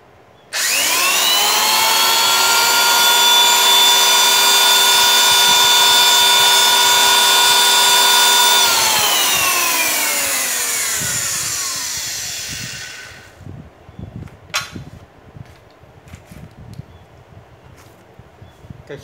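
A 570 W electric power saw run in a test, its loud whining motor spinning up quickly, holding a steady high pitch for about eight seconds, then winding down gradually into faint clicks and handling noise.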